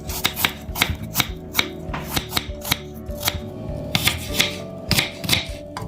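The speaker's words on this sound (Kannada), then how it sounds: "ಈಗ ಫ್ರೂಟ್ಸ್ ಕಟ್ ಮಾಡ್ಕೊಳ್ಳೋಣ." Fruits such as kiwi being cut for fruit custard, a steady run of crisp knife chops on a board, close and fairly loud with no talking.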